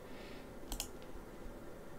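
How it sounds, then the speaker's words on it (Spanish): Near the middle of a quiet stretch, a computer mouse clicks once on the Balena Etcher app icon in Linux, soft and crisp with a faint second tick just after. "Le damos clic."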